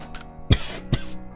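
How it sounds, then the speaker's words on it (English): Two short, sharp coughs close to the microphone, about half a second apart, with a faint throat-clearing rasp between them, over a quiet background of soft game music. "sorry for the cough"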